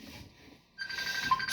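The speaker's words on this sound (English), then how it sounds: "Excuse that ringing of that phone." A telephone rings, its thin electronic tone starting partway through and holding steady at a modest level against quiet room background.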